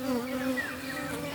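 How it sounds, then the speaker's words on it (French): Bees buzz in a steady, close drone that holds evenly for the whole moment, with no voices over it. "et le bourdonnement des abeilles?"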